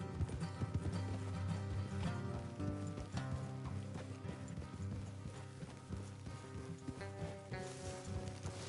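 Horses clip-clop along a trail in Red Dead Redemption 2, with steady hoofbeats running continuously beneath dense game music.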